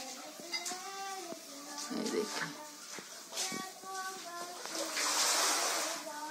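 Rainwater falls through a damaged, leaking roof during heavy rain, splashing and spattering near the speaker, with a louder gush of falling water toward the end, all beneath near-constant talking, including a voice.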